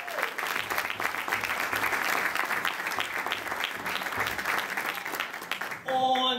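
An audience claps steadily at a live jazz band concert in Jersey City, New Jersey, a full round of applause for a band member that carries throughout before a short burst of speech at the end.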